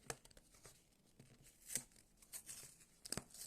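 Oldu Bil trading card packs are torn open by hand, with quiet, close, irregular rips and crinkles in short bursts and louder tears near the middle and end.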